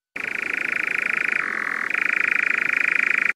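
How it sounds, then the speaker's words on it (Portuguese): A European nightjar gives its continuous churring song, a loud, close, unbroken mechanical trill that dips briefly lower in pitch midway before resuming, with no other sounds around it. "O noitibó da Europa tem um canto composto por um trinado contínuo"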